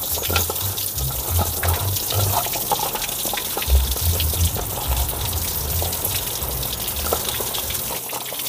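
Okra being rinsed under a running tap, a steady gush of water splashing over the pods with small irregular splatters throughout, close and continuous.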